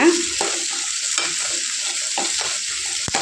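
Onions fry with a steady, close sizzle in a pan for home cooking, while a spoon scrapes and stirs at intervals, giving soft repeated clatters over the continuous hiss.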